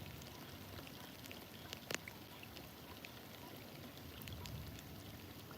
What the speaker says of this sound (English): fishing in the rain in a kayak.